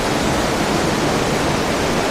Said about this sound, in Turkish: Ama yerlerde içindeki buz gibi suların şırıltısı, kokusu bizi mest ediyor